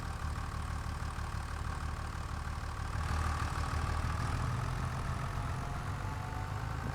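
A John Deere tractor engine in Farming Simulator 25 idles with a low, steady rumbling drone, rising slightly midway as though revved, continuous and moderately loud with no talking.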